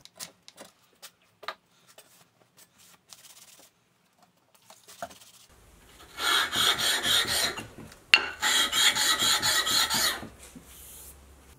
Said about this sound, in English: I'll scrape one way and get most of the blue areas, and then I'll come back in the other direction and scrape the other way